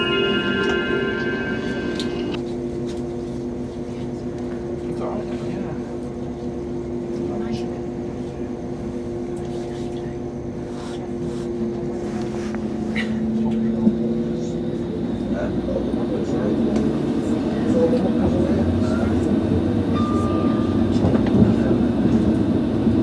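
Class 195 train 195007 pulls out for Manchester Airport, a low engine rumble building and rolling on with faint clicks and tones, a station announcement voice heard over it.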